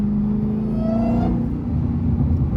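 A Dodge Hellcat accelerates, its supercharger whine rising in pitch over a deep, loud engine rumble close by, then easing as the engine note steadies.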